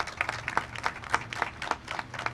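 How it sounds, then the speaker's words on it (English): Scattered clapping from a small crowd at an outdoor housing groundbreaking ceremony, uneven individual claps rising and falling in quick succession. "Let's give them a round of applause."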